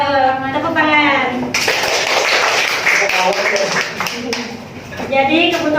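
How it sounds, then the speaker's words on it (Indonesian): Students clapping together in a classroom during a lesson, a dense burst of applause lasting a few seconds between stretches of a teacher's speech. "Tepuk tangan."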